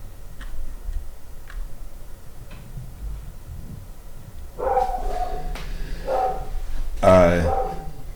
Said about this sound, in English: dog's getting fed